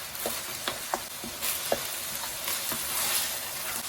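Minced keema is stirred and mixed in a frying pan with salt and coarse coriander, giving a continuous sizzle with repeated soft scraping taps from the spoon at an uneven pace.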